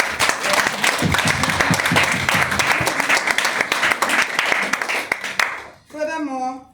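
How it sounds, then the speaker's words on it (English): Audience applause at a Caribbean midwives' association annual general meeting, a dense sustained clapping from a large crowd with cheering mixed in, lasting several seconds before it breaks off and a voice is briefly heard. "Give yourself a hand of applause."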